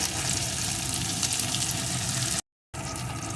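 Spices, crushed ginger and slit green chillies frying in hot oil for a vegetarian potato curry, a loud, steady, close sizzle that breaks off briefly near the end and resumes.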